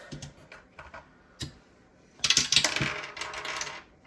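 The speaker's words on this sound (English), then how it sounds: "So let's roll this dice." Dice are rolled on a hard surface for a cash-stuffing budget, with light clicking taps followed by a louder rattling tumble that clatters for about a second and a half before settling.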